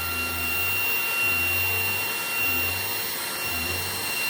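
Maircle S3 Pro vacuum cleaner running on high power over a fabric dog bed, a steady close whirring drone with a low hum that rises and dips as it is pushed back and forth.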